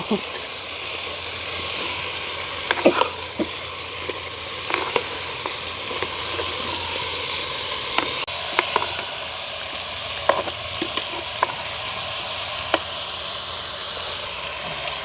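Moringa drumsticks fry in a pan in a village kitchen, giving a continuous soft sizzle broken by scattered clicks and scrapes from stirring.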